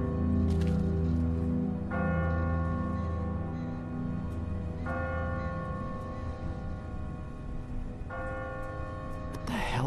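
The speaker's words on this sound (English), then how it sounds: "Ask not for whom the bell tolls." A church bell tolls from a bell tower in The Walking Dead video game, three loud, resonant strikes spaced a few seconds apart, each ringing out and slowly decaying over a low ambient rumble.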